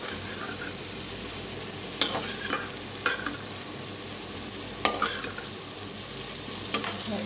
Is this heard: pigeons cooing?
no